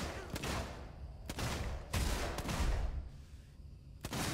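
Gunfire in the survival horror game Alien: Isolation, a few sharp shots spaced across the moment with a low rumbling game ambience between them and no talk over it.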